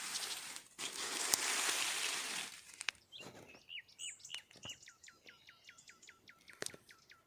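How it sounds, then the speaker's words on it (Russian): Repeated birdsong at a countryside dacha in spring, a run of short rising whistled notes arriving in quick succession after a stretch of broad crackling noise, fairly close and clear with no talking. "Слышите, как поет птица?"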